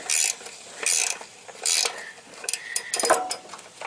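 A bolt on the rear bumper of a 2011 second-generation Toyota Tacoma is worked loose with vice grips, giving close, bright metallic clicking in several short bursts separated by brief pauses.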